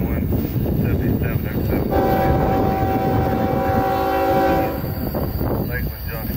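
An intermodal freight train rumbles past at Lakeland, Florida, with a loud sustained horn blast in the middle, a steady heavy roar of wheels and cars under it, and a voice faintly audible.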